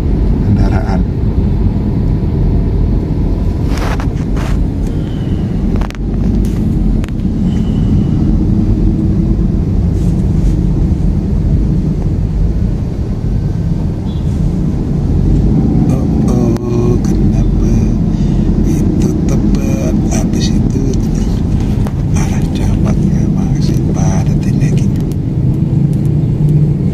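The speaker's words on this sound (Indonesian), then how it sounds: "kiri kanan mobil itu baru jalan dikit dah tersendat lagi karena hampir semuanya banyak sekali kendaraan" Steady low rumble of heavy traffic crawling through a jam on a Jakarta inner-city toll road, engines idling and inching forward from inside a car, with scattered clicks and knocks and a voice talking over it.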